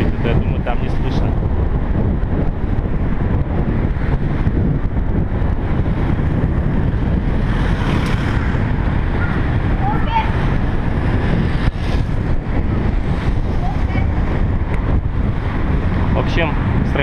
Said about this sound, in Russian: Сейчас ветер идет